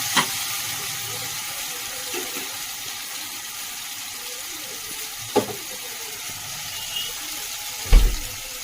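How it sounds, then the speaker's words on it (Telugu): Ginger-garlic masala paste fries in a pan with a soft, steady sizzle, broken by a few sharp clinks of stirring near the start, midway and toward the end. "మసాలా అయితే వేగిపోయిందండి"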